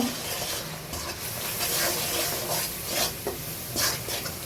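Ground spices, coriander powder and garam masala, are sautéed in a little oil for a duck curry with chui jhal and garlic, giving a continuous close sizzle and hiss with a spoon scraping and stirring through the pan.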